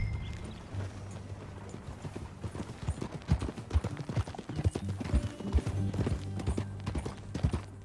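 Horse hooves clip-clop in a steady, close rhythm while a rider moves along on a ranch, the beats loud and continuous throughout.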